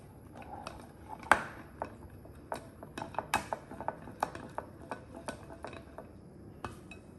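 Egg being mixed into okonomiyaki pancake batter, a utensil clicking and tapping against a bowl in a steady, irregular series of light strikes, with a few sharper knocks.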